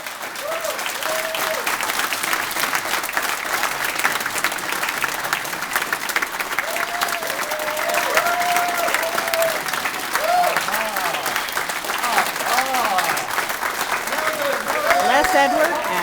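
Convention audience at a fantasy convention clapping, sustained dense applause from a large crowd lasting throughout, loud and steady with occasional voices and whoops mixed in.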